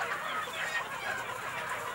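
Free-range village chickens, native buras fowl kept on a farm, clucking softly and steadily in a dense flock chorus throughout, a continuous low murmur of overlapping calls with no clear single bird standing out.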